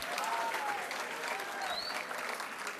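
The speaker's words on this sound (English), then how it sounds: "can I get like a little show of applause?" A brief burst of audience applause at a college STEM and career fair at NJIT, moderately faint and steady, with a few cheers and whoops over the clapping.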